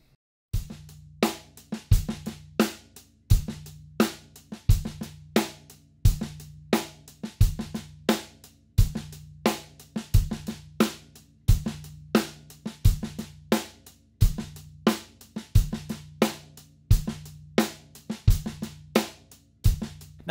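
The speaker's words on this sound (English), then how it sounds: "we got a little funk beat which sounds like this." A drum kit plays a steady open-handed funk groove for about twenty seconds: punchy kick and snare hits under a busy, regular hi-hat pattern, close and loud.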